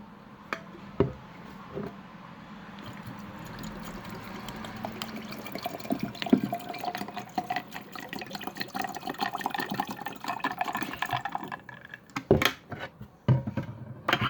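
Water is poured into a mixture during home cooking, a steady trickling splash running for several seconds with a few clinks and knocks of a container around it; no talking.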